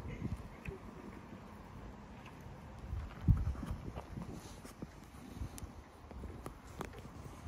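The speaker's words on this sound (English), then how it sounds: "Very healthy horses." Healthy, very tall horses walking outdoors, hooves clip-clopping in a loose, uneven rhythm at moderate distance over steady wind and low rumble, with a brief louder thump midway.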